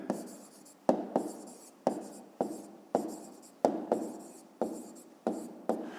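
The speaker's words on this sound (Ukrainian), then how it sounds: "Далі пишемо точка К" A pen scratches across paper while a maths exercise is worked out, with quick, quiet strokes repeating in a steady rhythm, each starting with a sharp tap and trailing off, close by.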